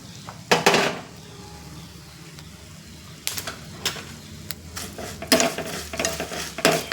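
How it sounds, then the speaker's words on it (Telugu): Bitter gourd pieces fry in a second pan, with scattered sizzling and repeated scraping, clattering stirs of a spoon against metal in short bursts, close by. "ఈ కాకరకాయ ముక్కలు ఇంకొక బాండి పెట్టుకొని పక్కన, ఆ బాండీలో మనం వేయించేసుకుందాం"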